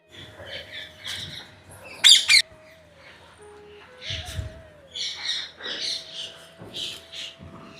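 Several birds, including parrots and pigeons, squawk and chirp in short bursts, some calls sharp and close, against a quiet background with a faint steady tone.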